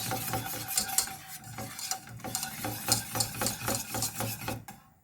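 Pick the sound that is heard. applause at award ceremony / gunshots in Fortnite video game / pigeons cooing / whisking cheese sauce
whisking cheese sauce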